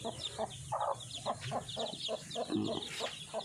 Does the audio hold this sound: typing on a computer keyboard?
no